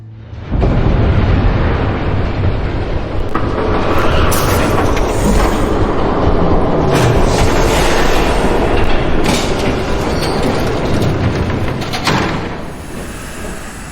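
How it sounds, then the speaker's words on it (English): A train passes in the Batman Telltale video game, a loud continuous rumbling roar with rattling clatter that holds steady for several seconds and then eases off near the end. "There's a train coming."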